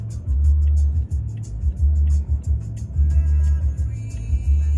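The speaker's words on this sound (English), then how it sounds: "That's another Dodge Charger right there. Dodge Charger, the Demon, a stack pack." A Dodge Charger Demon rolls past on a New York City street, a loud, deep engine rumble pulsing through several throttle swells, with no talk over it.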